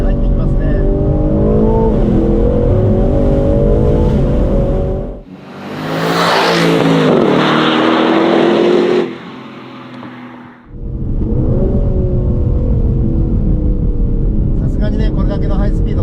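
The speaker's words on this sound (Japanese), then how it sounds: "サイドベントも いいデフの音、オープンにしてもドライバーの耳に入ってきますね。" Aston Martin Vantage Roadster driven top-down on a winding road, its engine droning steadily with differential whine, interrupted by a burst of rushing wind noise, while someone talks throughout over the car.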